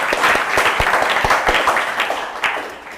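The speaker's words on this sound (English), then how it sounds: "can you clap for this guy first?" An audience at a leadership masterclass claps together in a dense burst, loud and close, holding steady before tapering slightly at the end.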